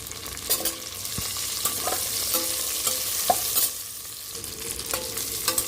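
Onions fry with spices in a pan over medium heat, a continuous sizzle broken by irregular scraping stirs, close and fairly loud, with no talking.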